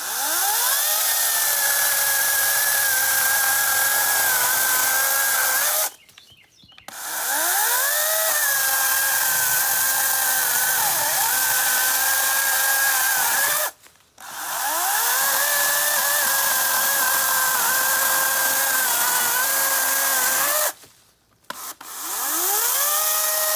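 A Lynxx 40V cordless chainsaw cuts into a tree stump about four to five inches wide, its loud, steady motor whine broken by three brief pauses as it slows and ramps back up.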